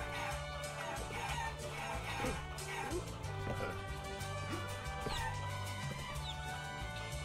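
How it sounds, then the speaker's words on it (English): A chicken clucks and crows in the video game Guacamelee, its short calls set against steady, busy game music that plays throughout. "A chicken..."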